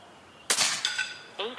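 A Reximex Accura PCP air rifle fires a 25 grain H&N pellet, giving one sharp, close crack followed by short ringing decay and a fainter second impact-like burst.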